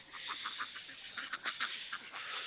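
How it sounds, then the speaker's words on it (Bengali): A passing flock of village ducks quacks in quick, repeated bursts, moderately distant and fairly faint against a quiet rural background. "এক ঝাঁক হাঁস চলে যাচ্ছে ওইদিকে"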